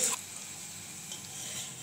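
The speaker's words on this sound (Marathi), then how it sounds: "आता मी तळून दाखवते तुम्हाला" Rice kurdai sizzling as it fries in hot oil, a steady fine hiss with a brief louder crackle at the start, close and alone with no talk.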